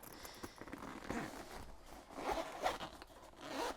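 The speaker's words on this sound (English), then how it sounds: "You want to also open up your zipper." A zipper on a fabric backpack being sewn is pulled open in a couple of scratchy, ratcheting strokes, close and fairly quiet, with no voices.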